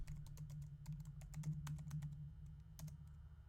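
Password keys tapped on a computer keyboard: a quick, irregular run of soft clicks, close and quiet, over a low hum.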